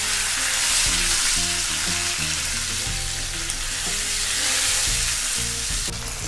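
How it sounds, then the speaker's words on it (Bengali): Curb mackerel fish fries in oil over medium heat, a loud continuous crackling sizzle with steady spitting and popping, close up and with no voices. "এটাকে এখন আমরা মিডিয়াম হিটে সুন্দর করে ভাজতে থাকবো।"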